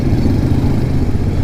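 A motorcycle engine idles steadily and close by among a group of bikes in San Jose, Nueva Ecija, giving a continuous low rumble throughout with no voices.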